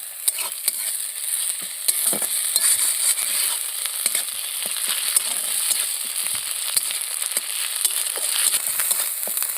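Ginger garlic paste hitting hot oil in a pan, a loud continuous hissing sizzle peppered with sharp crackles and spits, close and steady.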